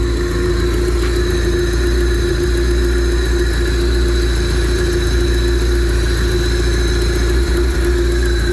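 A Honda Civic EF engine running on an OBD0 ECU idles steadily and close by, a constant low hum with a whining tone and no revving.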